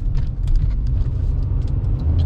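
A car accelerating on a test drive, a steady low engine and road rumble heard from inside the cabin, even and continuous with no talking.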